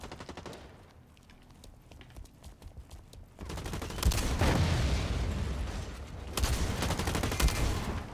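Rapid gunfire from a shotgun in the online shooter Blacklight: Retribution, quieter and sparse at first, then erupting into loud, sustained bursts of overlapping shots and booms near the end.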